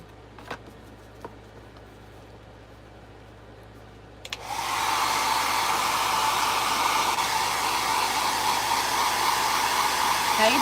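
A hair dryer switched on to dry paint on a Santa craft project, starting abruptly after a few quiet taps and then blowing as a loud, steady whooshing roar close by, with no talking.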